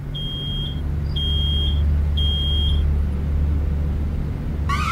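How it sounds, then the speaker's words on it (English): An alarm beeping in the Road 96 video game: three steady high-pitched electronic beeps, each just under a second long, repeat at an even pace over a constant low rumble, with a brief rising chirp at the end. "It's an alarm."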